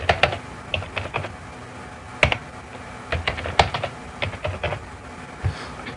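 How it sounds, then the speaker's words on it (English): Password being typed on a computer keyboard, an irregular patter of close, crisp key clicks with short pauses between bursts. "I'll type in a password"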